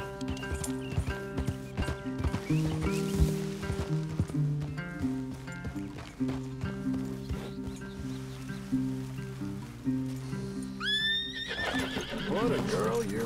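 Horses in Red Dead Redemption 2 clop their hooves steadily and let out a whinny near the end, set among trees, with game characters talking over the sounds.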